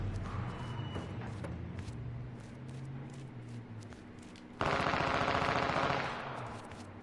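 Gunfire in the H1Z1 game: rapid automatic bursts and scattered shots, then a loud dense volley near the end, with footstep-like thumps underneath.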